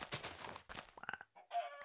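Minecraft chickens cluck in short choppy bursts during a Hunger Games style match, several quick game clucks and squawks in close succession.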